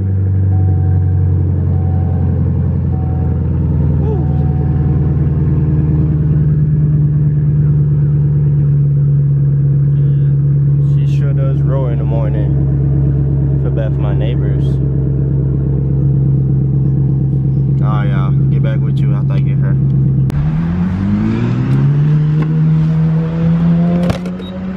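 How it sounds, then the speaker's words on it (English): A 2019 Chevrolet Camaro starting cold, its engine settling into a loud, steady, close rumbling idle, with a brief rise in revs near the end. "So I'm just gonna give y'all a cold start like this."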